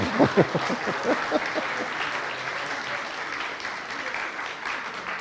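An audience at a gathering breaks into moderate applause, with a few distinct early claps and a brief voice before it settles into a steady, even patter that carries on to the end.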